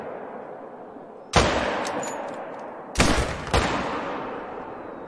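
Rifle shots fired at a moose in the hunting game theHunter: Call of the Wild: three sharp, close cracks, one and then two more in quick succession, each trailing a rolling echo over quiet outdoor ambience.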